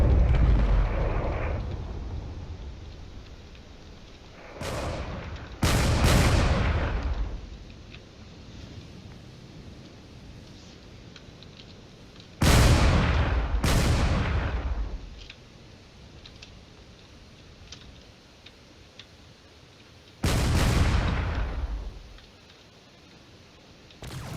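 Heavy explosions and artillery-like blasts in the game Drone Wars, with a broadsword ship taking fire; several loud booms arrive in pairs and singly with long decaying rumbles, separated by stretches of quieter ambient hum.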